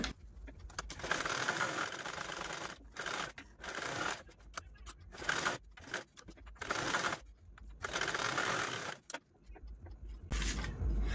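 Sewing machine stitching fabric for a baby bunny cap, running in repeated bursts of a few seconds each with short pauses between them, close and fairly loud.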